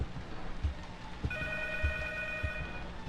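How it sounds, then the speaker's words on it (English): A telephone rings in the horror video game P.T., a thin electronic ring held over a low rumbling ambience with dull periodic thuds, heard up close. "And now the phone's ringing."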